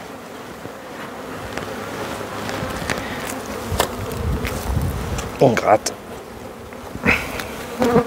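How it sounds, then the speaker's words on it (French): Many honeybees buzz continuously at close range at an open hive during a spring inspection, with scraping frame-handling noises and a brief spoken remark partway through. "Donc là, on fait descendre les abeilles."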